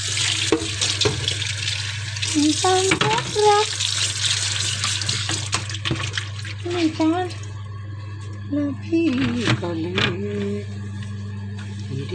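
Fresh mackerel being rinsed under a running kitchen tap: a steady stream of water splashes and gurgles with shifting handling noises, while someone talks over it.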